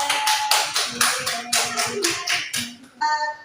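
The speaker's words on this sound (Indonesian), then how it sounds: "Tepuk tangan buat Wida" A primary school class claps for a student in a rhythmic pattern of about six sharp, evenly spaced bursts of hand claps, ending with one final clap.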